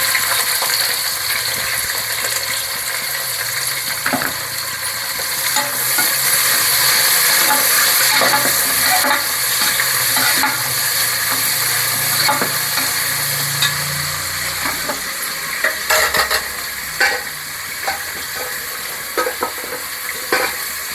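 Chopped onions and green chillies fry loudly with spices in oil for mutton biryani, a dense continuous sizzle broken by scraping stirs and occasional clinks of the spoon against the pot.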